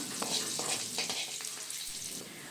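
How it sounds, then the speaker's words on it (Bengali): Garlic fries lightly in oil in a pan with a soft, steady sizzle. Faint popping crackles come at close range, quiet and alone with no talking. "এবার আমি রসুনটাকে দু তিন মিনিটের জন্যে হালকা করে ভেজে নেব"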